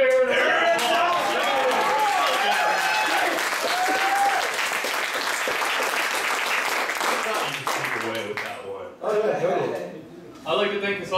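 A crowd at a live band show applauds loudly and continuously, with cheers mixed in, before the clapping thins out and breaks into scattered claps near the end.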